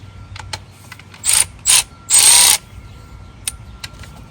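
A 12 mm ratchet loosens a bolt on a Powerstroke engine, giving a few short bursts of close metallic clicking separated by pauses, with no talking.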